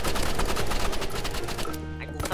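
Rapid gunfire from the video game Rivals, a continuous dense barrage of loud shots with game sound underneath, close and dominant throughout.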